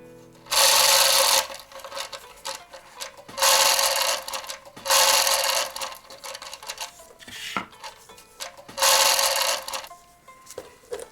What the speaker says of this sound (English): Undo the knots in the chains so we can pull them through.